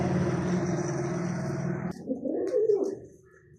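Soft pigeon cooing, low and murmuring, runs under a steady background rumble for about two seconds, then a few fainter coos follow in a quieter space.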